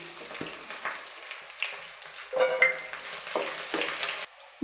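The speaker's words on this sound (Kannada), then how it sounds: "ಬೆಳ್ಳುಳ್ಳಿ ಸ್ವಲ್ಪ ಚೆನ್ನಾಗಿ ಫ್ರೈ ಆಗಬೇಕು" Garlic frying in hot oil alongside chana dal, urad dal and green chillies, a soft continuous sizzle with occasional stirring scrapes against the pan, fairly quiet and close.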